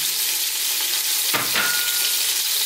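Uncooked basmati rice sizzles steadily in a hot pan over high heat, with a loud continuous frying hiss and a brief scraping stir partway through.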